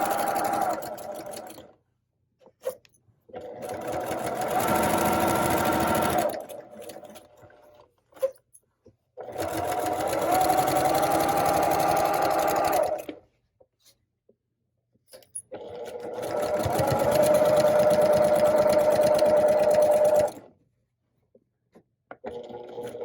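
A sewing machine stitches quilt pieces in three long runs of steady, close mechanical whirring, separated by quiet pauses with light clicks and handling sounds.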